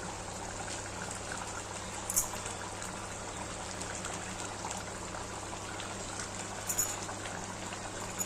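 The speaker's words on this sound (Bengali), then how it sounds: "ঝোলটা ফুটে গেছে" Prawn curry broth on a steady boil in a pot, a continuous low bubbling hiss with occasional soft pops, fairly quiet and unbroken, with no talking.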